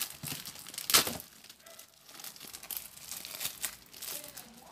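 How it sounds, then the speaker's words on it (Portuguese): Plastic packaging around a comic book is opened up close, giving a burst of crinkling with a sharp tear near the start, then softer intermittent rustling of the plastic. "Vou abrir a embalagem aqui. Esse plástico vale a pena até manter,"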